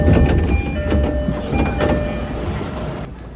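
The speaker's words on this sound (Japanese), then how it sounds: "電車は往路と同じ15番線に入線。" A train on the Mito Line draws into platform 15 at Oyama Station in Japan, with a loud rolling rumble, rail clatter and squealing brake tones as it slows, and the noise settling near the end.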